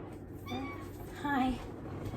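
A house cat gives two short, close meows with a soft hum of room noise underneath.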